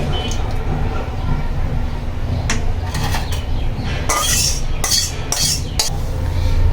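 Curry is poured from a pan into a serving bowl, with a metal spoon or pan clinking and scraping in a few sharp bursts over a steady kitchen background.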